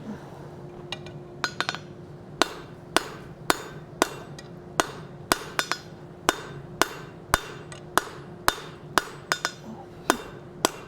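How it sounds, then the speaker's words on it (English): A hammer strikes metal on an anvil while a Nordic wolf head door knocker is forged, giving about twenty sharp ringing blows at an uneven working pace. A steady low hum runs underneath. "let's go over to the anvil real quick, and we're going to forge this out"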